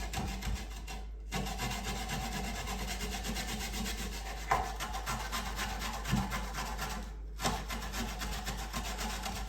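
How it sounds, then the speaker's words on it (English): A food grater worked on its finest side in a home kitchen while preparing agedashi tofu, giving repeated rasping scrapes in long steady strokes, close and fairly loud, with two brief pauses, and no voices. "On the grater, you want to use the thinnest part, just the grater part, not the shreddy part."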